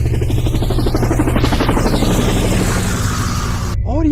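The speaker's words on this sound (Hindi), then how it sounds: "और फिर ग्रैंडपा हेलीकॉप्टर को स्टार्ट कर देते हैं।" A helicopter's rotor thumps in a loud, fast, steady chop close by, with a brief warbling tone at the very end.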